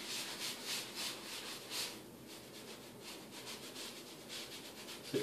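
Sponge rubbed over painted surface for a faux marble effect, a soft, close scrubbing rasp in repeated strokes, steady and fairly quiet with no talking.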